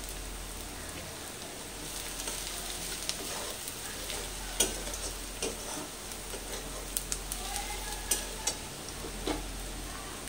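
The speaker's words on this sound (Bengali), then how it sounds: "পেঁয়াজটা 2-3 মিনিট নাড়াচাড়া করে এবার কাশ্মীরি লঙ্কার গুঁড়োটা দিয়ে দিচ্ছি" Onions and Kashmiri chili powder fry in a pan with a steady, dense sizzle, punctuated by occasional clinks and scrapes of stirring, over a low constant hum.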